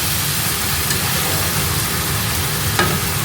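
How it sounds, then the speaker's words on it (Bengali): Shredded cabbage frying with potatoes and spices in a pan, a steady broadband sizzle with soft stirring scrapes, close and continuous, no voices. "বাঁধাকপিটা আমি দিয়ে দিয়েছি এবার জলটা পুরো শুকিয়ে ভাজা ভাজা হবে"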